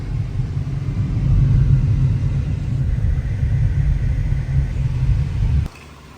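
A car driving home, a steady low engine and road rumble heard from inside the cabin, fairly loud and continuous until it drops away abruptly near the end.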